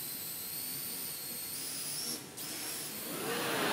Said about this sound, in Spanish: lo que están viendo volar es lo que llama, no es un helicóptero a control remoto, es un vehículo autónomo